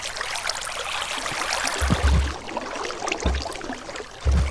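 Minecraft water flows in a steady broadband rushing wash, with a few soft low thumps rising out of the continuous stream.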